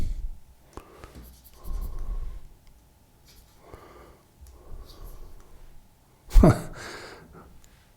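A stylus writes on a Penstar eNote Pro M10c, a 10.3-inch color e-ink tablet, making soft scratchy strokes in short bursts, with a sharper tap near the end and faint breathing between.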